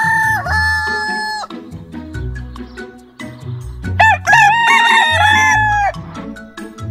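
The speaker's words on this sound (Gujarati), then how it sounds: "આ પક્ષીને કુકડો કહેવાય અને કુકડાને અંગ્રેજીમાં કોક કહેવાય." A rooster crows loudly and close, with two or more long, wavering cock-a-doodle-doo calls over a low musical background.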